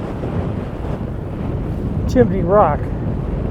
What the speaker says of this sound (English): And boy, it's windy up here.